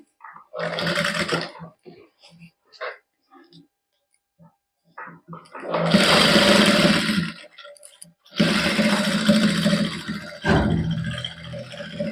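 A sewing machine stitches a designer salwar in a Punjabi boutique, running in two long, loud bursts of whirring separated by short pauses, with someone talking before and between the runs.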